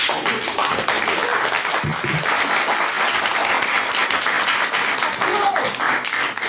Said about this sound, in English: Please do applaud at any and every opportunity.